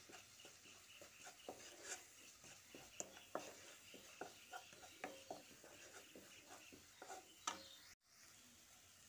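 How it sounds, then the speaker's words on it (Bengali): Ground coriander, cumin and Kashmiri chili powder frying in a pan for a Bengali jackfruit curry, with faint soft sizzling and repeated light scraping taps of a spatula stirring, quiet and close, with no voice. "তারপর মশলাটা ভেজে নিচ্ছি।"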